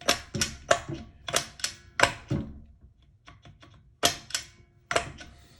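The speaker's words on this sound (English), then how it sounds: "that is the sound of gears shifting inside the engine." Sharp mechanical clacks and clicks, a string of irregular metallic knocks with short pauses, close up and fairly loud, like gears engaging inside an engine.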